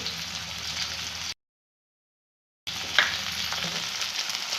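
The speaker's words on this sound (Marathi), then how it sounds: "आता फक्त आपल्याला परतून घ्यायचे जास्त फ्राय करायचं नाही" Cabbage, spring onion and capsicum sauté in a pan with cumin, a steady close sizzle and crackle broken by a short stretch of total silence, then resuming with faint stirring clicks.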